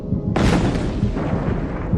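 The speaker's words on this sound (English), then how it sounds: "The first stage is the bomb's lightning-fast blast wave." A bomb explosion and its blast wave: a sudden loud boom bursts out after a brief low rumble, then trails off into a rolling, roaring decay.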